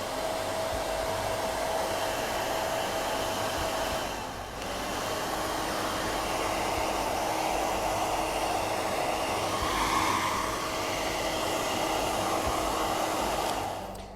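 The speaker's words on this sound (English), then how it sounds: "you can see I'm just letting the hair sit in the diffuser and let the diffuser do all the work." A hair dryer fitted with a diffuser attachment dries curly hair, blowing a steady, close, airy whir that dips briefly once before resuming at an even level.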